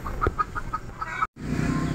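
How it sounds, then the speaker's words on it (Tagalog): A hen restless to lay an egg clucks in a series of short, evenly spaced calls, close and clear over a low background rumble, cut briefly by a dropout before steadier noise resumes. "inahin na manok na gustong mangitlog. Kaya yun siya nagwawala."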